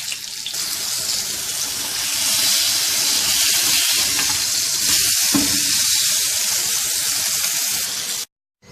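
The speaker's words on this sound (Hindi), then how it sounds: "अब इस बीफ पैटी को फ्राई कर लेंगे।" A beef patty fries in oil with a loud, steady sizzle that crackles and hisses throughout, briefly swelling, then cuts off abruptly near the end.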